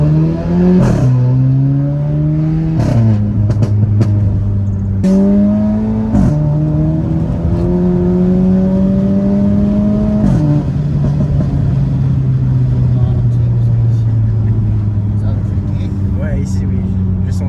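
A tuned Stage 3 Polo GTI engine of about 350 hp with a Golf turbo revs hard through several gear shifts, pitch climbing then dropping each time, loud and close, with a voice talking over it.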